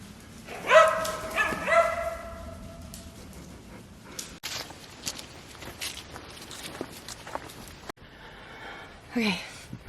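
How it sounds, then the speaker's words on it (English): Dogs outdoors after a hike, a few close barks and yips near the start, then footsteps, rustling and shuffling movement with occasional soft whimpers and a brief vocal sound near the end. "Good doggies."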